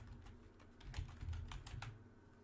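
Soft keystrokes on a computer keyboard as a command is typed, a quick irregular run of faint clicks heard close and alone in a quiet room.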